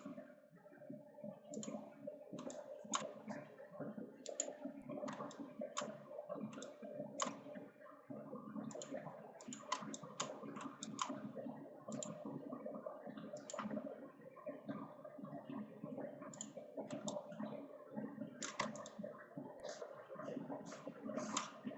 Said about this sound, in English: So let's click on this arc.